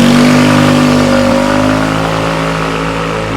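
A 2021 Rusi RFI 175 fuel-injected motorcycle engine revs loud and close, a steady droning hum holding high and easing slightly in pitch across the clip, alone with no talking.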